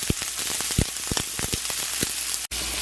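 Half an onion sweats in canola oil in a pan, giving a steady close sizzle with scattered pops and crackles, briefly cut by a tiny silent gap near the end, and no voice over it.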